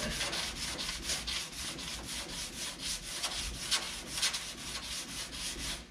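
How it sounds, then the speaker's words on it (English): A round sanding block rubs over cured primer on a curved dent repair, making a close, scratchy rasp in quick back-and-forth strokes that continues without pause throughout. "I'm going to start with kind of a round block to get into this curved area. Start kind of smoothing that out a little bit."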